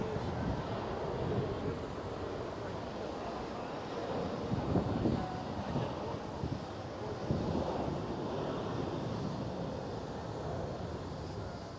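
A KLM Airbus A330 passes at Amsterdam Schiphol as a moderate, continuous jet rumble that swells slightly in the middle, mixed with some wind buffeting and no speech.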